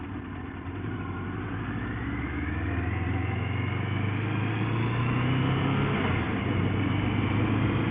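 A motorcycle engine pulls through its gears on a road near a roundabout, a continuous mid-pitched drone whose tone climbs and resets with each shift, loud and close throughout.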